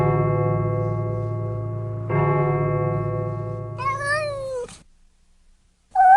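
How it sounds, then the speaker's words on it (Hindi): A cat-like scream used as a sound effect in a Sherlock Holmes audio drama, a rising, wavering yowl after a sustained droning tone, breaking off into silence before a short second cry at the end. "बिल्ली जैसी चीख, डॉक्टर घोषाल का चीते का बच्चा होगा।"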